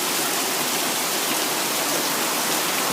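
Floodwater rushes after heavy rain in a dense, constant hiss and roar, loud and near, unbroken for the whole moment with no voices.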